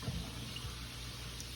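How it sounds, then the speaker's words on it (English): Running water from a kitchen tap filling or rinsing a bowl of cold water holding thinly sliced potatoes for Zuppa Toscana soup, a steady close splashing flow with no talk. "And then I just place them into a bowl of water"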